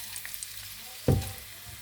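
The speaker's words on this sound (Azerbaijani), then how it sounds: "İndi soğanı əlavə edeyim, burada qovurum." Chopped onions dropped into hot oil in a home kitchen pan, giving a sudden loud burst of sizzling that settles into a steady softer crackle, with no talking.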